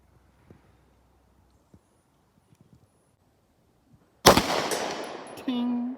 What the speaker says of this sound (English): And then you're shooting 100-yard steel.